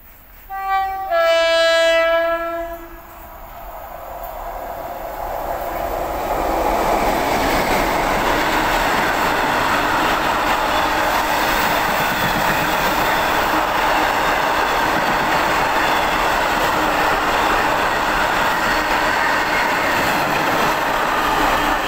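A Class 60 freight locomotive passes a station, opening with a loud sustained two-tone horn blast lasting about two seconds, followed by the long, steady roar and rumble of the freight wagons rolling by close at hand.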